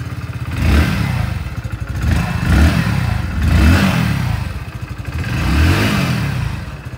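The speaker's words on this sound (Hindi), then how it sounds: "भाई ये है इसका एक्चुअल एग्जॉस्ट साउंड" A Hero Splendor Plus motorcycle exhaust thumps at close range, rising and falling in several rev swells with a steady low-pitched putter between them.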